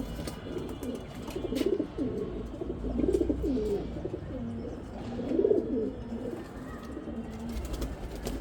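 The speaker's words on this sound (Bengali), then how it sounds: "এই যে এগুলো হলো পুরান কবুতর, আজকের না।" Old-breed Giribaz pigeons on a rooftop coo in low, rolling repeated phrases, several birds close by over steady background noise, with faint chirps mixed in.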